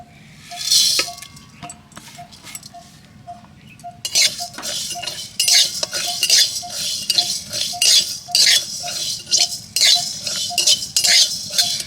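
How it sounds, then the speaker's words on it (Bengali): Whole cumin, coriander and fennel seeds dry-roast in a dry wok, with a spatula scraping and clinking against the metal in quick, repeated strokes, loud and close, and no voices. "1 চামচ করেই নিয়েছি গোটা জিরে, গোটা ধনে আর গোটা মৌরি। এই তিনটেকে শুকনো কড়াই ভেজে নেব।"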